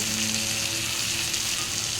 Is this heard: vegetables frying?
yes